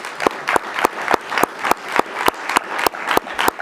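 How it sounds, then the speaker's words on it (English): Applause from a conference audience at an annual general meeting, a close, fairly loud patter of hand claps in an uneven rhythm lasting several seconds, without any voices. "A big round of applause."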